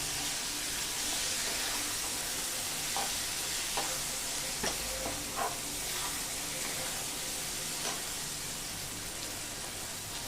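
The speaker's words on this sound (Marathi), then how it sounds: "मटार टाकल्यानंतर 2 ते 3 मिनिटं कांदा परतून घ्यायचा, जेणेकरून मटार त्याच्यामध्ये शिजला जाईल।" Onion and frozen peas stirred and sautéed together in a pan for aubergine bharit, a steady close sizzle with scattered soft scraping clicks of the spatula, no talking.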